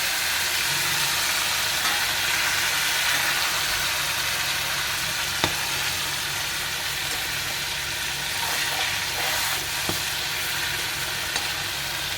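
Raw, unseasoned chicken pieces frying uncovered in mustard oil in a home kitchen, a steady dense sizzle running throughout with occasional faint clicks, close and continuous with no talking.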